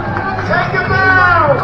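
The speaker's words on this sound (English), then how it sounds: "I'm in a crowd" A dense crowd murmurs and chatters all around, a close, steady hubbub of overlapping voices with no single speaker standing out.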